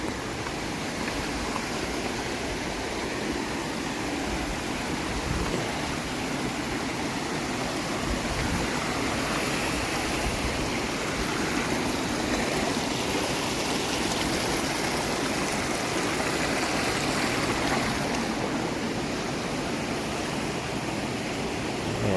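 A forest river rushes steadily over rocks with broad, constant flowing water noise, close and unbroken throughout, no voices.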